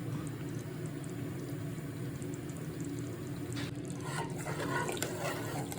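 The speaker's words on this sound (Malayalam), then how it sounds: "ഇനി ആദ്യത്തെ പാൽ ഒഴിച്ച് നമുക്ക് കുറുകി എടുക്കാം" First coconut milk poured into simmering kadala payasam, a soft steady liquid stream with light splashing near the end, fairly quiet and without talk.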